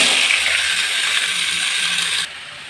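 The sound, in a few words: potatoes added to hot oil, frying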